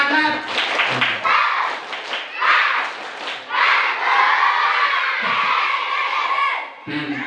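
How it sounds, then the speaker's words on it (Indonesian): Schoolchildren at an Isra Mi'raj school event perform a patterned spirit clap, bursts of rhythmic clapping mixed with loud group chanting and shouts, close and lively. "Tepuk semangat."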